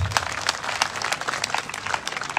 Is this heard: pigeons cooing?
no